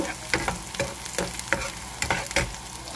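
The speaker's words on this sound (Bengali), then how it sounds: "এখানে পেঁয়াজ, পাঁচফোড়ন ভেজে নিচ্ছি বাগারের জন্য।" Onion and panch phoron fry in hot oil for a tempering, a close, bright sizzle punctuated by about eight sharp spatula scrapes and knocks against the pan at a brisk, uneven rhythm.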